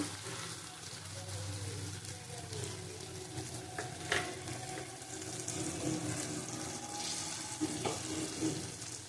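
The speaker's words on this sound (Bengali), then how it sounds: "তিন পিস ইলিশ মাছ আছে এটা দিয়ে দেবো অল্প কাঁচা সর্ষের তেল দেবো" Hilsa fish pieces frying in raw mustard oil give a steady, close sizzling hiss with light stirring and clattering throughout, and faint background noise underneath.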